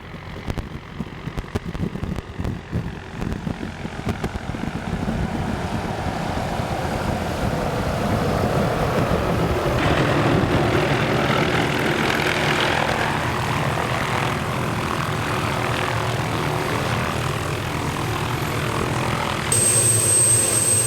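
A propeller aircraft called the maxi taxi arrives to collect a tahr hunting crew in the New Zealand mountains, its engine loud and close, a pulsing thrum settling into a steady, heavy roar that holds throughout with no voices.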